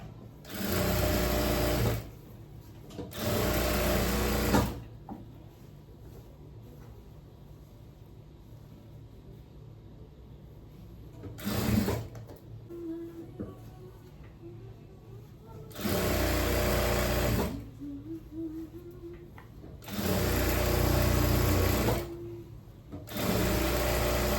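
Sewing machine stitching palazzo pants, running in several loud bursts of rapid stitching separated by quiet pauses with faint handling noises.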